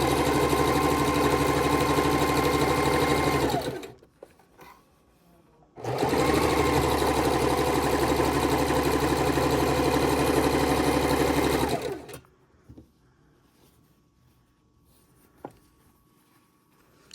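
A sewing machine piecing a king size quilt with white thread runs in two loud, steady bursts separated by a short pause, then falls quiet with faint handling noises.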